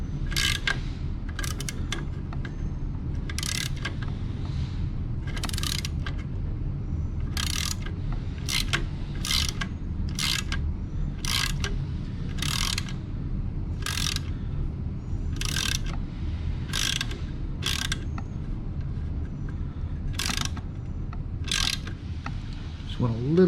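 A ratchet tightens the bolts of a Vance & Hines slip-on exhaust on a 2021 Honda Rebel 1100, giving about seventeen short, sharp clicking bursts at uneven intervals over a constant low hum.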